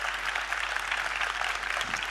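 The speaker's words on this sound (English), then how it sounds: "I think Steve Harvey deserves a bigger round of applause." Audience applause for Steve Harvey at a Dubai media event, a steady close wash of clapping from a large crowd, continuous and even with a low hum beneath.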